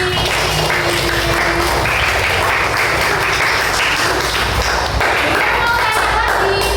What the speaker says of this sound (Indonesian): tepuk tangan untuk Daiti